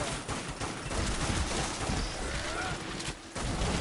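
A rifle fires in Dead Nation as quick, overlapping gunshots blurring into a dense, crackling barrage amid busy game noise, with a short lull near the end.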